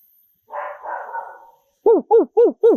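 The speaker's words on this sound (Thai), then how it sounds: "พูดจนหมาเห่าเลยนะ" A dog barks four times in quick, evenly spaced succession, loud and close, after a short muffled rustle.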